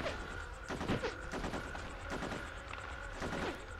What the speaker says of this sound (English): Who is shooting us and from where?